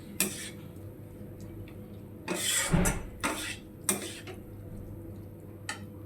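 Fried cauliflower and potatoes are tipped into a pan and mixed with spices, a few sharp metallic clanks and scrapes of a spoon against the pan, with quiet stretches between.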